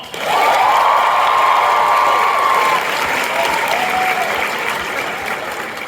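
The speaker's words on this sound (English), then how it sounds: "And can you guys give a round of applause to our translator, Paul?" A convention panel audience at Otakon 2023 gives sustained, dense applause for a translator, with scattered cheers and whoops rising within the clapping crowd.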